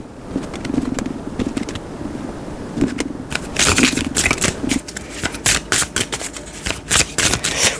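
Tarot cards are shuffled and drawn by hand, a continuous soft papery riffling that turns into crisp rapid flicking snaps in the second half, close and without speech.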